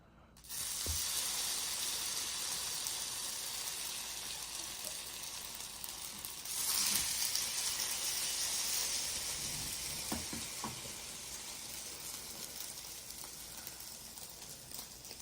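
French toast sizzling in a pan, a steady close hiss of frying that swells briefly midway and then holds, with a few faint clinks and no talking.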